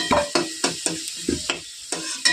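Potatoes fry in a pan for cauliflower khichuri while a spatula scrapes and knocks against it in a quick series of stirring strokes over a soft sizzle.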